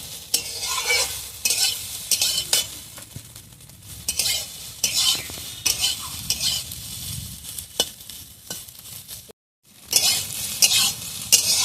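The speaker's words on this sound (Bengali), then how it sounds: "সয়াবিনটা এইভাবে লাল লাল করে ভেজে নিয়েছি" Soybean chunks fry in a pan with egg, the spoon stirring and scraping in bursts over a steady sizzle, with clinks of metal on the pan and a brief silent gap near the end.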